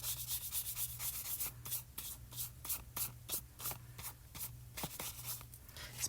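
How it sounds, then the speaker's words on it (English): Stiff brush rubbed gently back and forth over hot-foiled cardstock to clear excess foil, a quick series of close, dry scratchy strokes in a steady rhythm. "we take a stiff brush and just gently rub that across the foiling"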